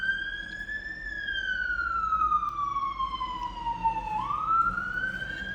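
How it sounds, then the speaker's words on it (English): Emergency vehicle siren outside, one wailing tone sweeping slowly up and down, steady and fairly loud over faint traffic rumble, with no talk. "The sirens."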